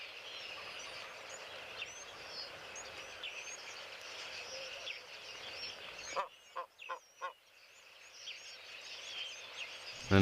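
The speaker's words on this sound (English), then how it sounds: "And let us not forget the ever-present Egyptian goose," An Egyptian goose honks in a short burst of loud calls near the middle, set against a steady wash of distant bird and insect chatter at a busy watering spot.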